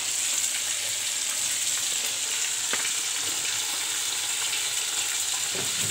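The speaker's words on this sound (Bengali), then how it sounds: "এই তেলটা গরম হয়ে গেছে, মাছটা দিয়ে দিচ্ছি।" Bhola fish goes into hot oil and fries with a loud, dense, continuous sizzle close up, steady throughout, with faint clinks and no speech.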